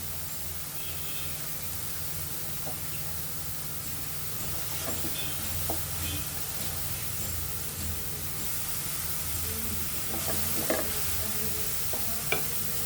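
Garlic sizzles in hot oil in a pan while being stirred for a crispy bitter gourd and shrimp fry. A steady, close frying hiss runs throughout, with scraping stirs and a few sharper clicks of the utensil. No one speaks.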